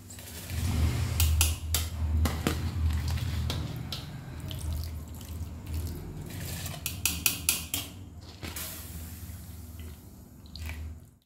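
Soaked rice is tipped into a pot of boiling water, giving a watery splash and rolling bubbling noise with scattered metallic clinks and taps of utensils against the pot.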